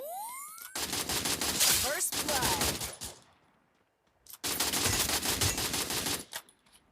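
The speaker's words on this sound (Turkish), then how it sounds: "Ha duvar arkası vuruyor." Rapid gunfire bursts in the mobile shooter Free Fire, two long dense volleys separated by a short pause, loud and continuous, with faint speech mixed underneath.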